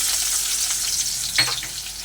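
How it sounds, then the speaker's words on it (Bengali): Chopped onion hitting hot oil left from frying rohu fish, a steady hiss of frying with a brief louder sizzle burst partway through, close and without talk. "এবার ওই মাছ ভাজা তেলের মধ্যে দিয়ে দেবো পেঁয়াজ কুচু"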